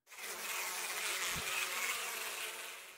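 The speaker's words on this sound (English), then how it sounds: "No, there's bees!" Bees buzzing in the Death Mark video game, a dense, steady insect drone that swells in quickly and holds close and loud for a few seconds before easing off, with no voices.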